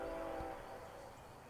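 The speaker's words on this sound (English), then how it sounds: "The southbound train I thought that wasn't coming through did such." A southbound freight train passes on a railway line with a faint, distant horn tone over a steady low rumble that slowly fades.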